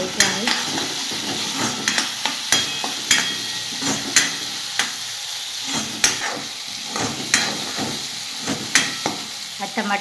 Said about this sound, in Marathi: टमाटा पण छान तेलामध्ये होऊ द्यायचं आहे